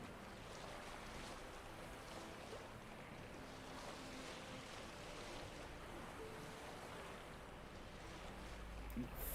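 Steady waves washing around a sailing boat on open water in The Witcher 3, with wind rushing across the surface, a continuous even wash throughout and no talking.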